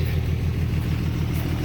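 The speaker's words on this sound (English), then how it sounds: "you can hear the motor running on the truck" Truck motor running steadily at a low, constant rumble throughout, a close continuous drone with no talk over it.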